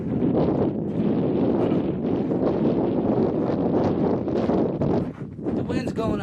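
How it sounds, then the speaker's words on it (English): Strong gusty wind roars across the microphone at an outdoor archery range, a loud continuous rumble with buffeting surges and a brief dip near the end. "The wind's going up pretty good out here."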